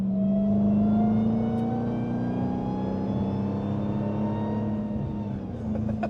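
A Dodge Demon 170 accelerates hard, its engine droning loud and close in a steady rising pitch through the gear, with a deep rumble underneath and a slight dip near the end.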